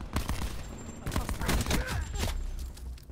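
Loud, rapid bursts of gunfire from the Titan weapon in the shooter game Black Ops 4, with overlapping blasts and explosions over about three seconds.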